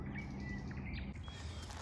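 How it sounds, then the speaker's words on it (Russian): Birds chirp and call continuously at dusk beside the Don River at an old crossing in Liski, with mist settling; steady overlapping tweets sit over a constant low outdoor rumble, no voices. "Ну и птички просто не умолкают."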